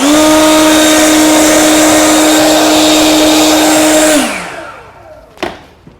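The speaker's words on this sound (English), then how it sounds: "let me blow my contaminants out" Compressed air hisses loudly and steadily through a fuel fitting while blowing out contaminants during a Holley fuel system install on an LS-swapped Monte Carlo SS, then cuts off, followed by a sharp clunk.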